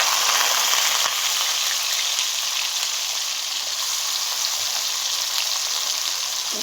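Potatoes and onions fry in hot oil with cumin, giving a loud, steady, dense sizzle that holds without letting up throughout, with no talk.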